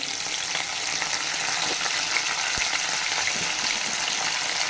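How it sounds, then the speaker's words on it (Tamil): Raw mango pieces with curry leaves and green chili fry in a hot pan, giving a continuous close sizzle with faint stirring and one sharp tap partway through, no voices. "மாங்காய், இதை நல்லா வதக்கிட்டு காமிக்கிறேன் பாருங்கள்."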